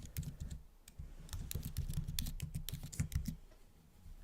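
Rapid clattering keystrokes on a computer keyboard as code is typed, a steady run of close, crisp clicks lasting several seconds with no talk over them.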